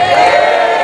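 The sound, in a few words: audience cheering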